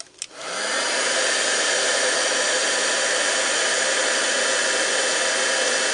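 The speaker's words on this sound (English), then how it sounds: "I'm going to use my heat gun. I do have the old style Stampin' Up heat gun, so mine's a little bit noisier than the new one." An old-style Stampin' Up heat gun used for heat embossing switches on with a click and blows a loud, steady, close roaring hiss that holds without change.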